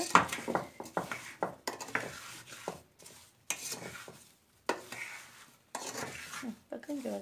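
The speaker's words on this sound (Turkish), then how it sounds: "Şöyle biraz karıştırıyorum." Watermelon and sugar stirred in a pot for watermelon jam, with a spoon scraping and clinking against the pot in short, irregular bursts separated by brief pauses, close up and fairly quiet.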